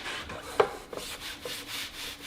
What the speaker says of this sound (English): it's rubbing the tire